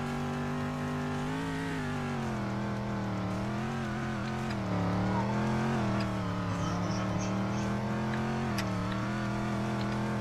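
Race car engine droning steadily on the track in a racing video game, a continuous harmonic whine that rises and falls gently with throttle, loud and alone with no talking.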